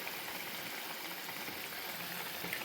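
A pot of mushroom curry simmers on a rural village stove, giving a steady, soft bubbling hiss that runs evenly throughout at close range, with no voices.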